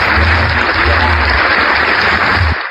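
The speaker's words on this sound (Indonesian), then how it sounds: "Udah tepuk tangan dulu." Loud, close applause from an audience at a lively discussion event: a dense wall of clapping that holds steady for over two seconds and then cuts off abruptly.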